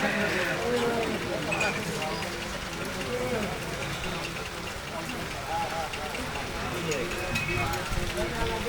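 Rain in Manikganj, a continuous hiss and patter on surfaces at moderate level, with voices talking over it throughout.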